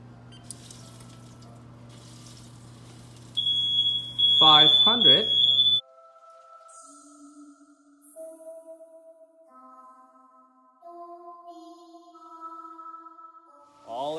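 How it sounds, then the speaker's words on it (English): Smoke detector set off by smoke from an oven while roasting a turkey, sounding a loud high-pitched beeping tone for a couple of seconds amid kitchen noise, with people talking and running water nearby. "We just had a little smoke detector issue with all the smoke coming out of the oven"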